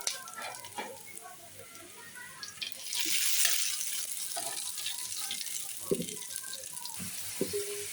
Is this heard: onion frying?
yes